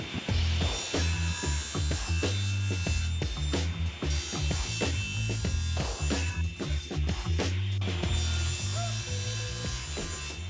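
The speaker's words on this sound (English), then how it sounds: "So I have a dado stack in my saw, so I should be able to cut each one with just one pass each." Table saw fitted with a dado stack cutting channels across wooden side panels in a workshop: a loud, continuous motor whine with a heavy low hum and rough cutting noise running throughout, no speech.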